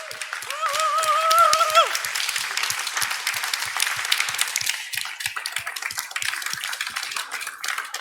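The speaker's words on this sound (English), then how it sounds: "really you deserved great applause" A live-streamed meetup audience applauds at the close of a talk, with a short voice-like tone at the start and then scattered, fairly sparse clapping that continues steadily at moderate loudness.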